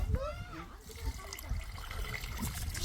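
Farm water runs and splashes steadily while goat tripe is washed outdoors, the flow continuing under someone talking throughout.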